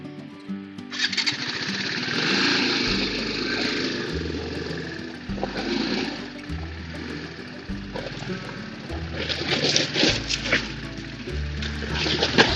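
Motorcycles on a rough mountain track between Zopo and Garam Chashma, overheated with tyres stuck, their engines revving hard and droning steadily with repeated surges. Rushing water runs in the background.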